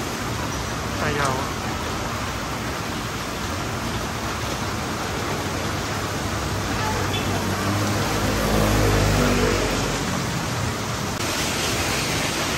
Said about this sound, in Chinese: 下大雨了，其实最近真的是梅雨季啊